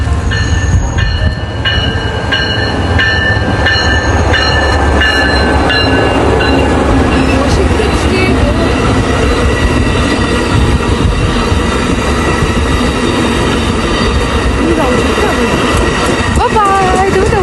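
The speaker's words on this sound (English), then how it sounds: "I'm gonna board this train." A passenger train at White Rock, British Columbia, rumbles along with rhythmic wheel clatter, a steady loud roar and occasional metallic squeals, while people talk nearby over the noise.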